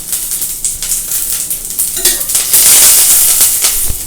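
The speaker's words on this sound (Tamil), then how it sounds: "கருவேப்பிலை போட்டு கொஞ்சம் ஃப்ரை பண்ணி." Curry leaves fry in a hot pan with a steady, loud sizzle and crackle, a bright hiss rising toward the end, and a few stirring scrapes along the way. No one speaks.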